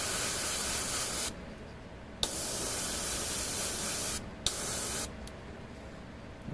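An airbrush sprays paint onto a tabletop miniature of an Adeptus Mechanicus Tech Priest Enginseer in close, steady hissing bursts, three long sprays separated by brief pauses with small clicks as the trigger is released.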